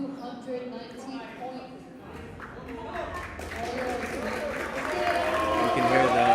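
A crowd at a powerlifting meet cheers and shouts over a spoken voice, growing louder and denser toward the end, with some clapping mixed in.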